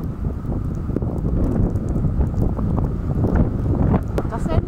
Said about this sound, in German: Das ist endlich mal Wind.